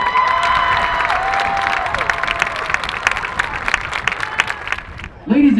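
A crowd at a marching band competition awards ceremony applauds and cheers loudly and steadily, with a brief voice rising right at the end.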